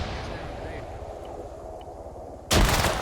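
A thrown frag grenade goes off in a tactical shooter game: after a stretch of low rumbling background, a sudden loud, close blast bursts out near the end and keeps roaring.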